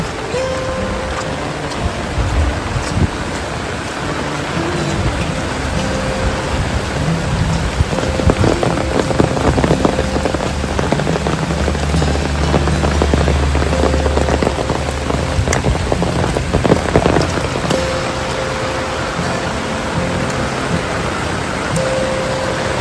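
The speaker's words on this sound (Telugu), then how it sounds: "ఇంకా వచ్చేటట్టే ఉంది వర్షం అయితే" Steady heavy rain falls on outdoor surfaces near houses and a pipe in a field, a dense continuous hiss of drops without pause, loud and close with no voices.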